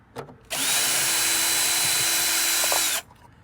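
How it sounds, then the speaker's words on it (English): Cordless power drill backing screws out of an electrical box on a mobile grooming van: one steady high whir lasting a few seconds, close and loud, with light handling clicks before and after. "So take your drill."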